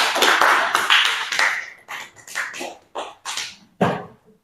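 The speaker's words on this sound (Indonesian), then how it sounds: "boleh silakan dulu beri tepuk tangan dulu buat kelompok 2" A classroom group claps for a student team after their presentation, a loud burst at first that breaks into scattered, fading rounds of clapping with brief gaps between them.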